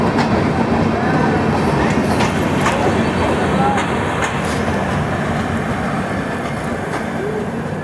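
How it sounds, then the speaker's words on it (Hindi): The Sachkhand Express rolls out of Dholpur Junction with a continuous loud rumble and rattle of carriages heard from on board, steady throughout with faint voices underneath. "4:12 पर हमारी ट्रेन निकल रही है धौलपुर जंक्शन से"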